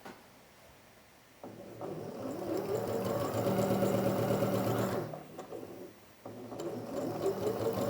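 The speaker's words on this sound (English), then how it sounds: "So this is a basting stitch we're going to use to gather up the ruffles" A sewing machine running a long basting stitch on fabric ruffles, its steady fast mechanical whir starting after a quiet pause, dropping briefly, then resuming, close and clear with no voices.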